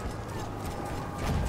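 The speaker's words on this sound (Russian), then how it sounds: "Опять чел на лошади, это может быть для нас опасно." Horse hooves clip-clop in the multiplayer video game Battlefield 1, a steady rapid patter of galloping beats under broad battlefield noise, growing slightly louder toward the end.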